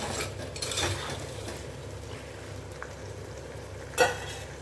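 Vegetables sautéing in a pan in a home kitchen, a soft continuous sizzle with occasional stirring scrapes and a sharp utensil knock near the end.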